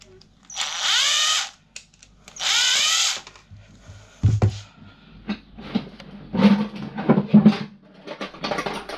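Cordless power drill whirring in two short loud bursts while taking apart electrical plugs for scrap brass, followed by clicks, clatter of small parts and handling noises at close range.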